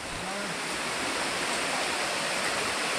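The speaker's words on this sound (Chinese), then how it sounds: "前面的瀑布好正啊！" A waterfall on a mountain stream gorge pours with a steady, dense roar of rushing water that fills the air from start to end.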